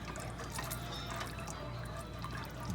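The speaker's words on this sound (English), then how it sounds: "now a teeny tiny splash of heavy cream" Heavy cream poured in a small splash into a pan of keto pork piccata sauce, a soft, close liquid trickle and pour running steadily for a few seconds.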